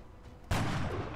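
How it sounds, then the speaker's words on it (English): A soldier's rifle shot rings out during a headshot attempt in the video game XCOM: Enemy Unknown, a single sudden, loud blast followed by a short rumbling decay. "Now let's try a headshot."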